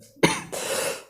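A single sharp cough bursts out close by, followed by a short rasping exhale.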